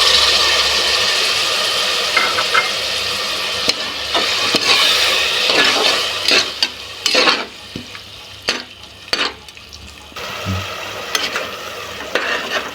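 Biryani masala sizzles steadily in a pan at close range, broken by repeated scraping stirs and clacks of a spoon against the pan, with no talking.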